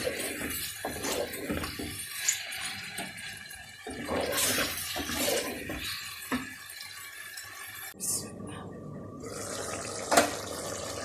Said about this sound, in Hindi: मैंने एक कप पानी डाला है चिकन में